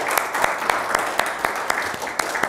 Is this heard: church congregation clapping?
yes